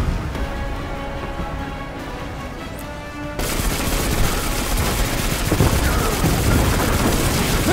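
Missile fire and explosions in Destiny 2 erupt suddenly after a quieter stretch, becoming a loud, sustained barrage of blasts and rumbling impacts.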